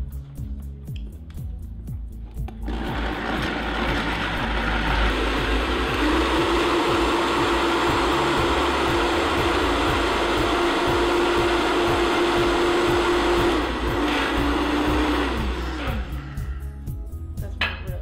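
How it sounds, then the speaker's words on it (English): Kitchen blender whirring through raw pie filling until creamy, a steady loud motor drone that starts after a pause and runs for over ten seconds before winding down. "We're gonna blend it until it gets creamy, creamy, creamy smooth."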